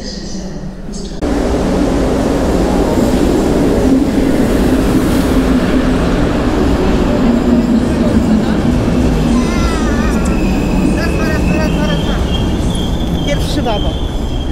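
An EIC intercity train pulls in at platform track 4 of a Polish station, a loud continuous rumble of wheels and carriages rolling past close by with brakes squealing toward the end, under a platform announcement voice.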